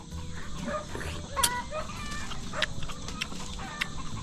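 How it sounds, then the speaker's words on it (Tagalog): Chickens cluck in a rural countryside setting, with a few sharp calls and low clucks rising over a faint outdoor background. "Halos maririnig mo na lang mga yan, ano, manok, aso"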